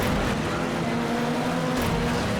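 Engine roar from a badly battered race car at a racing event, a steady loud drone with a slight surge partway through, close and uninterrupted.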